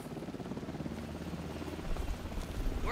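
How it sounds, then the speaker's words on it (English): Helicopter in the video game Alan Wake II, a low, steady rotor thrum with a fluttering pulse heard at a moderate distance, fairly quiet throughout. "Okay, helicopter."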